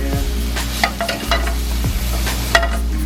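Shrimp cooking in a hot pan for Thai shrimp pasta, giving a steady close sizzle with a few brief clinks and stirring scrapes, with no voices.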